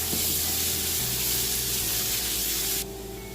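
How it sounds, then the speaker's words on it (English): Onions tossed into melted butter in a pan sizzle loudly and steadily at close range, a dense frying hiss that drops off sharply near the end, with no talking. "we're going to add the onions and give them a good toss and cook for about 3 to 4 minutes"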